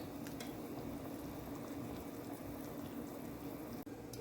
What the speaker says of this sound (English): So now I'm going to pour in my season to let it boil.